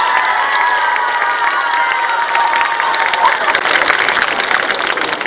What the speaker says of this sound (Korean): 다시 한번 다 함께 큰 박수 부탁드립니다.